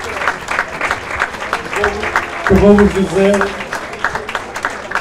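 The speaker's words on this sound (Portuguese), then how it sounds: "Uma grande salva de palmas para este casal" Audience applause for an honored couple at a community event, steady clapping from a crowd while a person speaks over it and a brief musical or vocal tone rises midway.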